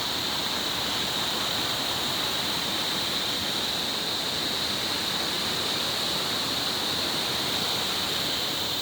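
A large Himalayan river on the Madhmaheshwar trek rushes beneath a big bridge, a loud, dense, unbroken roar of turbulent water that never lets up.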